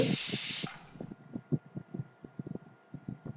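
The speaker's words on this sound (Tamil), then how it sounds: "குக்கரை கொஞ்சம் மெதுவாக ஓப்பன் பண்ணுங்க." A short, loud hiss of steam bursts from a pressure cooker of chicken biryani and quickly cuts off, followed by quiet rattling and clicks.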